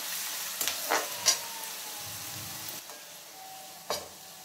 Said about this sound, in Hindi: तो प्याज इतना भून गया है, थोड़ा और भूनेंगे, इसे गोल्डन ब्राउन करेंगे।